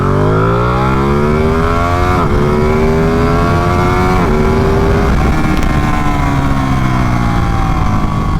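A Ducati Panigale motorcycle pulls hard in wet riding mode, its engine rising in pitch through several gears with brief dips at each shift, loud and close throughout with no talk.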